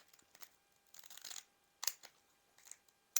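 Scissors cut through bath towel fabric in a few quick crunchy snips, with short bursts and a brief flurry in the middle, close and fairly quiet with no talk.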